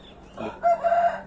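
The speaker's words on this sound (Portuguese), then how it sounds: "As galinhas pescoço pelado, eu tirei ele agora." Naked neck chickens cluck close by in short, rough bursts, with a crowing-like call rising over the flock in a backyard poultry setting.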